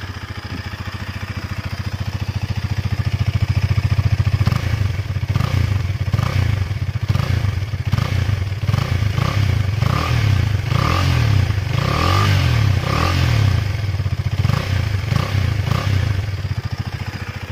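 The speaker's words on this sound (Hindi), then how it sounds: "चलो अभी बाइक को ऑन करते हैं और आप लोगों को एग्जॉस्ट नोट सुनाता हूँ।" A Husqvarna Svartpilen 250 motorcycle's exhaust note, the single-cylinder engine idling steadily up close with short rhythmic throttle blips partway through, no talk over it.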